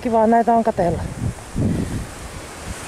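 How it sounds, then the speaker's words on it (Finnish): Strong wind gusts buffet the microphone on an exposed Norwegian hillside, with a rough, roaring rush surging up beneath and after someone speaking in Finnish. "täällä tuulee tosi voimakkaasti"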